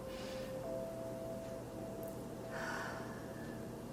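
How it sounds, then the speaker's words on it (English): Slow, faint breaths drawn in and let out, close to the microphone, over a soft steady background hum with a thin sustained tone, and no talking. "Breathing in"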